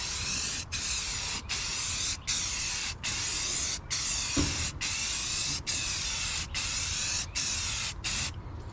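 Spray paint hisses onto a boat being flipped for resale in about ten steady bursts, each lasting under a second and separated by brief gaps, loud and close, with a faint knock midway and no talk.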